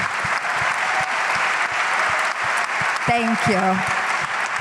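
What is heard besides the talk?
applause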